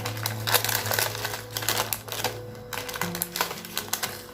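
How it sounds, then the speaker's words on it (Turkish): Baking paper is peeled off a freshly baked sponge cake with several crinkly, papery tearing rustles in short bursts, close by and fairly soft, over a faint steady hum. "Yağlı kağıttan da çıkartıyorum."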